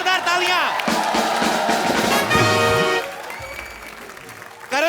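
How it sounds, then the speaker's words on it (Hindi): Studio audience on a Hindi comedy talk show applauding and cheering loudly for a guest, with music and a voice over the crowd before the clapping fades and swells again at the end. "चलो एक बार करण सर के लिए जोरदार तालियां"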